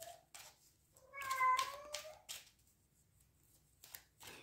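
A cat meows in a few drawn-out, tuneful calls, close and fairly soft, with quiet gaps and faint shuffling noises between them.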